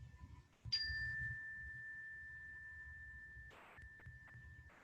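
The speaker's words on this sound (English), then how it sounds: "to the sound of this bell." Bell struck during a yoga class, a clear ringing tone that sustains and slowly fades, then rings again later, faint and alone in a quiet room.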